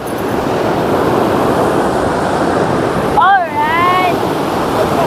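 Sea waves and rushing water at Dumaguit Port make loud, continuous broadband surf with heavy wind buffeting, and a voice briefly calls out partway through.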